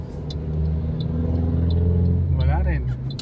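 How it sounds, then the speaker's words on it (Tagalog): Motorized tricycles and other traffic rumble past on a busy city street near Caloocan City Hall, a steady close engine drone with a revving tricycle passing near the end. "Ito, ang daming tricycle, oh."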